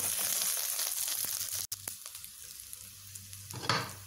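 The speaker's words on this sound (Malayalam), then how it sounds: "പിന്നെ കരിവേപ്പില ആഡ് ചെയ്ത് കൊടുത്തിട്ട് നമുക്ക് നന്നായിട്ടൊന്ന് വഴറ്റി കൊടുക്കാം" Green chilies and curry leaves sauté in hot oil for a payar (bean) curry, producing a soft, quiet sizzle that drops out briefly, then returns with a louder burst of spatter near the end.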